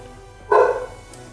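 A dog lets out one sharp, close bark over a quiet background hum, brief and alone with no talking around it.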